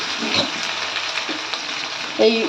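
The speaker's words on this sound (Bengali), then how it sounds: "আমি একটু কড়াইয়ে তেল দিয়ে প্রথমে আমি একটা মশলা এর মধ্যে দিয়ে দিলাম" A spice mix fries in oil in a wok, giving a continuous close sizzle with faint scraping, and a short burst of louder activity near the end.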